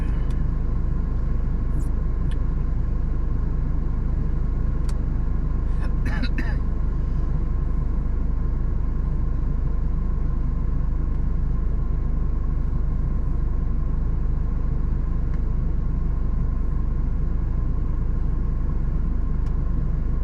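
Steady car engine and road rumble from a car on a Norwegian road, heard from inside as it drives, a continuous loud drone with no talk.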